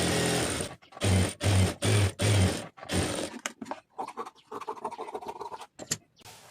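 Sewing machine stitching a blouse, running in short bursts of rapid mechanical whirring separated by brief pauses, then lighter clicking and scraping handling noises afterward.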